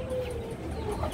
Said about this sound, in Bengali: আকর্ষণ হচ্ছে ব্রাহ্মা মোরগ মুরগি